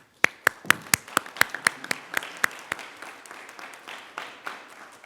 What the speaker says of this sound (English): they deserve an applause themselves